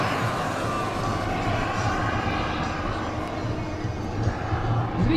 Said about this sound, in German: Wunderschönes Flugbild von dieser Swiss MD-11, die ca. 26 Kilo wiegt.